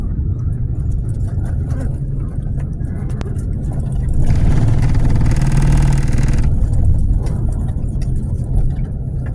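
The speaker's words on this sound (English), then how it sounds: "we're just driving low and slow and pulling out every 10 minutes or so for cars that are behind us" Vehicle engine running steadily as it drives slowly along a road, a continuous low rumble throughout with a brief rise in broadband road or wind noise midway.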